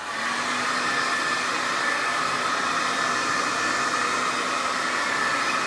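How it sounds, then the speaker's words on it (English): A hair blow dryer runs steadily, drying a wet handmade Easter egg stand; a continuous close whooshing hum with no pauses and no voices. "so I'm going to grab the blow dryer here"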